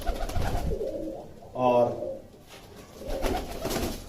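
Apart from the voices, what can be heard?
pigeons cooing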